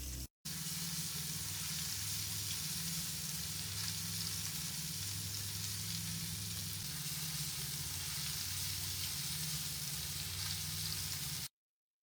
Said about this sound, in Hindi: स्लो आग पर हम इसको 3 से 4 मिनट फ्राई कर